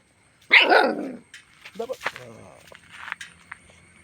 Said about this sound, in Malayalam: രണ്ട് പട്ടിക്കുഞ്ഞുകൾ